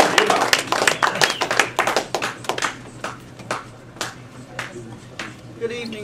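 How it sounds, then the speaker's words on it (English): An audience claps to welcome a speaker, starting as a quick burst of many hands and thinning into scattered, slower claps that fade out. "let's have a warm round of applause for our speaker"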